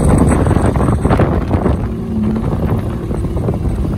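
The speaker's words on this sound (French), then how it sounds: "Il y a un petit peu de vent." Steady wind rumbles across the microphone throughout, a low continuous buffeting with a faint engine hum beneath from a vehicle driving in first gear.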